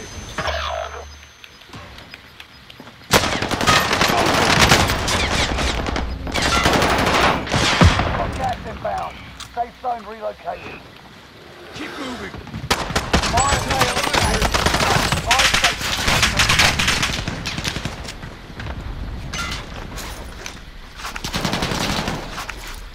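Dense bursts of automatic gunfire from a video game shooter rattle loud and near, in long rapid volleys with short gaps between them.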